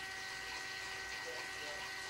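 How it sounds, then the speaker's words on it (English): Water running through one small pipe that loops around from the back of a house's crawl space, a steady faint hiss and trickle with a low hum underneath, continuous throughout. "that one small pipe that comes around, that sounds like it's got water running in it"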